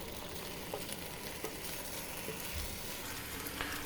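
Korean fish cake being stirred slowly in a hot pan, a steady soft sizzle with faint scraping clicks of the spatula, close but low in level.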